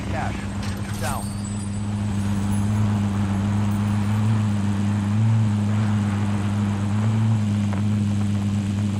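A helicopter carrying cash in the video game Warzone (Plunder mode) drones steadily with a low rotor hum throughout, close and continuous, with game voice callouts over it.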